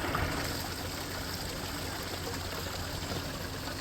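Water runs from a campground water tap in a steady, close, continuous gushing stream with no break and no talking.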